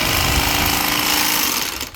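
A bag closer machine sews a sack, a loud continuous rapid mechanical chatter that runs steadily before cutting off abruptly at the end.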